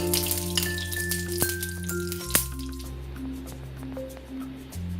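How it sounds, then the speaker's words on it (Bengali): Bread slices shallow-frying in ghee in a pan, a steady crackle of bubbling fat with scattered pops and spatters, close and continuous. "আমি বাকিগুলো ভেজে নিচ্ছি।"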